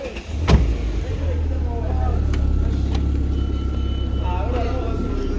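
An Audi RS3 drives along with a steady low engine and road rumble inside the cabin. A bump comes near the start, and someone talks over the drive.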